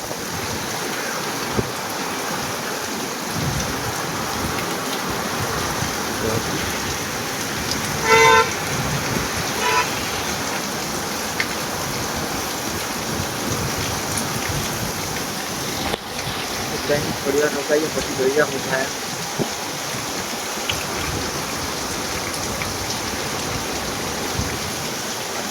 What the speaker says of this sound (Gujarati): જબરદસ્ત વરસાદ ચાલુ થઈ ગયો